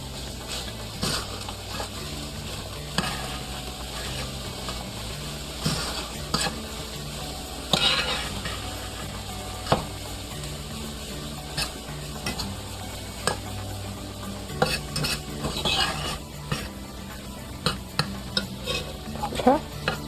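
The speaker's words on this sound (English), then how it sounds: "I put my meat back in the skillet. I'm going to add in my peas and carrots, as well as my corn." Meat, peas, carrots and corn fry in a skillet for shepherd's pie, a soft steady sizzle broken by repeated scraping and stirring clicks of a utensil against the pan.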